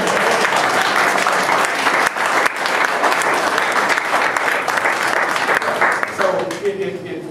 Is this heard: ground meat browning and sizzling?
no